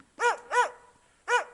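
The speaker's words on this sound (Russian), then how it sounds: "смотрит и лает на меня" A dog barks in a remote riverside wilderness camp, three sharp, loud, close barks, two in quick succession and a third after a short pause, with no other sound between them.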